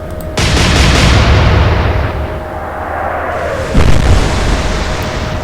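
Naval guns firing in the game Atlantic Fleet, a loud booming blast that rolls into a long rumble, then a second heavy report near the four-second mark, with no voices.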